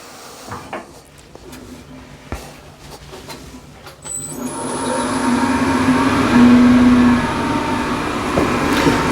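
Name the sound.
wood lathe spinning a yew blank at 1600 RPM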